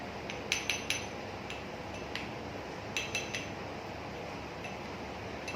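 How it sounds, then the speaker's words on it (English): A spoon whisks an aloe vera gel tint mixture in a small bowl, giving faint, sparse clinks and taps against the container in irregular bursts over a quiet background. "now you have to just whisk it nicely with the spoon itself"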